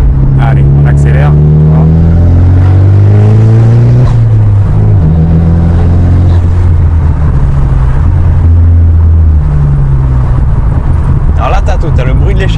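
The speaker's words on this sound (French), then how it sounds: "T'as le bruit de l'échappement, du turbo." A car speeding up, its engine note rising loudly in several gear-held sweeps and dropping between them, with exhaust rumble and turbo whine close by; people talk over it.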